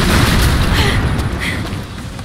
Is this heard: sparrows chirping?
no